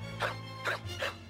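A dog barks three times in short, evenly spaced yelps over a steady low hum, from an anime comedy scene in Gundam Seed Character Theater.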